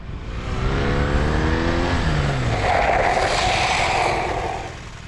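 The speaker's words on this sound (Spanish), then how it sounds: "a la hora de forzar el derrape de la rueda trasera, el comportamiento también fue muy predecible" A motorcycle on knobby trail tires has its rear wheel forced into a skid on asphalt. The loud engine note rises and drops in pitch across the clip, with a broad tire-scrubbing hiss over it and no talking.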